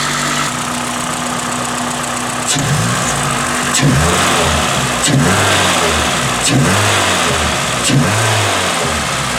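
A Toyota Corolla XRS engine fitted with an Injen cold air intake idles, then revs hard in five or six short open-throttle bursts, each climbing and falling back to a rough idle, loud and close.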